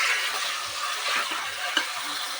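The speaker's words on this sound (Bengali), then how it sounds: "আমি প্রথমে নুনটা দিয়ে দিলাম দিয়ে কিছুক্ষণ নাড়তে থাকবে" Salted mutton sizzles in a pan while being stirred, giving a continuous close frying hiss broken by faint scrapes and clinks of the spoon.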